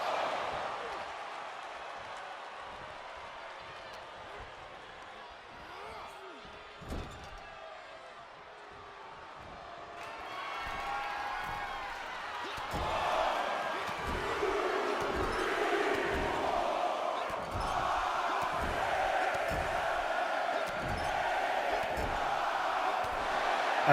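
A wrestling crowd at an FDW show roars and cheers. The noise swells from a quieter murmur into a sustained din, punctuated by repeated thuds and slams from the ring, while a commentator talks over it.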